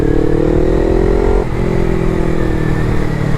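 A Suzuki GS500 parallel-twin motorcycle engine running steadily with a loud, close, buzzy drone and a slight dip in pitch midway, with no talk over it.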